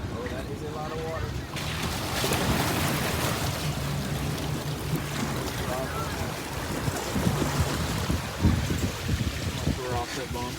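A Ford Bronco pushes through deep water in four-wheel low on a test track, making a loud continuous rush and churning splash with wind buffeting the microphone, while people talk over it.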